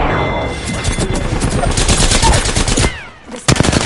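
Apex Legends gunfire: rapid automatic bursts, loud and close, rattling continuously before a brief lull and a final sharp burst, with a voice briefly heard.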